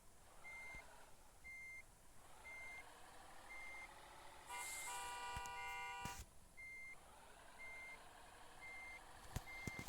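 A truck in a driving video game backs up with a steady series of evenly spaced reversing beeps over low engine rumble, briefly joined midway by a louder burst of tones and a hiss.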